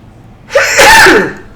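A single loud, close sneeze: a short intake of breath followed by a sharp, explosive burst, then silence.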